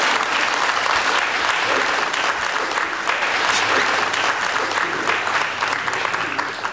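A theatre audience at a Deyunshe crosstalk comedy show claps loudly and continuously, dense sustained applause filling the whole stretch with faint crowd murmur underneath.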